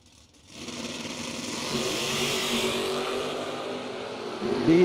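Doorslammer drag race cars launching at a drag strip: a quick rise into a loud, sustained engine roar that holds steady and swells again at the end, with no voices.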